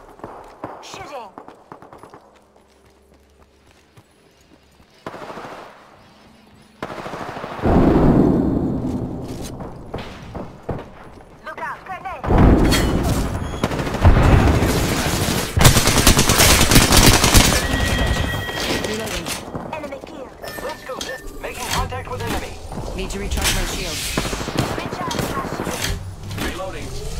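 Automatic gunfire in the battle-royale game Apex Legends, with dense bursts of rapid shots that grow louder and keep rattling nearly continuously, with scattered thuds under the action.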